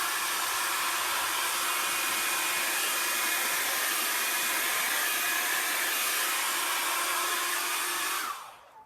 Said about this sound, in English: I'm going to blow it all the way around.